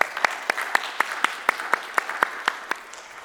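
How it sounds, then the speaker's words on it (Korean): A church congregation claps together in thanks during a Sunday service, giving a steady series of about a dozen sharp, evenly spaced claps close to the listener, with a faint hum of the room underneath and no voices. "하나님께 감사의 박수 올려드리죠."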